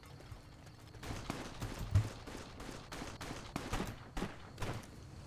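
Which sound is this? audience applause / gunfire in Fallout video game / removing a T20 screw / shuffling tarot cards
gunfire in Fallout video game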